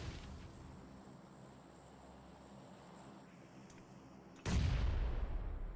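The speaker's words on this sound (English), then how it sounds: "Team Rayo definitely lobbing out those grenades" A grenade explodes in a video game tournament match, one sudden loud boom that cuts in after a quiet stretch of low ambience and then rumbles on as it decays.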